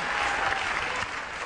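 Loud, dense audience applause on a television talk show, a continuous wash of clapping from a large studio crowd that holds steady and eases slightly near the end.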